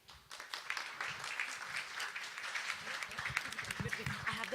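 An audience claps at a fashion show, a dense ongoing patter of many hands at moderate distance that holds steady throughout the clip.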